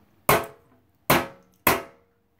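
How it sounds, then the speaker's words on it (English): Three sharp hammer strikes drive a wheel onto a toy Radio Flyer wagon, each a loud, close crack with a quick decay, the second and third coming closer together. "I think we might need the bigger hammer."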